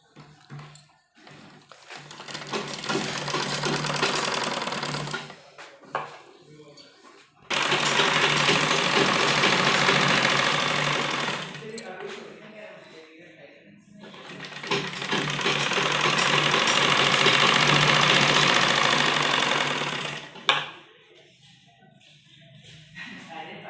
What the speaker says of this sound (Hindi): तो सबसे पहले हम इनको स्टिच करते हैं।